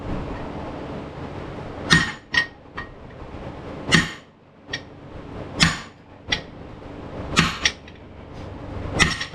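A heavy hammer strikes a pipe driven against a badly seized 1968 Mopar 440 engine from a GTX, landing about ten sharp, ringing metallic blows at an uneven pace, close up, with no other sound between them.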